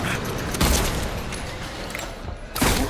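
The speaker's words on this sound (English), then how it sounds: "We're just shooting." Gunfire in a video game, with bursts of shots and booming impacts forming a dense, continuous clatter over nearly three seconds, and heavier louder blasts near the start and end.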